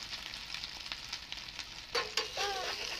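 A country egg omelette fries in a pan with a steady close sizzle, broken near the end by a few louder spatters and a faint scrape.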